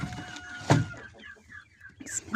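A hen in a coop gives short, soft clucks in a loose string, with a sharper burst near the start, heard close in a quiet setting.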